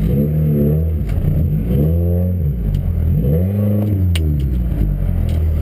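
A car revs hard in snow while trying to pull away, its engine note rising and falling in repeated loud surges, with rumbling and clatter from wheels struggling for grip.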